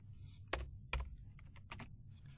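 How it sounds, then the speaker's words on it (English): Quick clatter of keys typed on a computer keyboard while coding a WPF slider in C#, a few crisp separated taps and short bursts, close and fairly quiet against a low hum. "You've got to put a space before you start typing."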